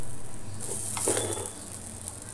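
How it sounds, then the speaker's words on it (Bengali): Rice fries in a pan with bay leaf and whole garam masala, giving a steady close sizzle broken by a brief scrape of stirring. "চালটা এই যে ভাজি একটু ভালো মতো করে যাতে একদম সবকটা গায়ে গায়ে না লেগে থাকে"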